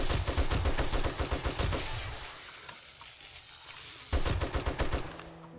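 Rapid bursts of automatic gunfire from weapons cutting down zombie hordes in the survival game 7 Days to Die, loud and close, with a quieter lull in the middle before the shooting resumes.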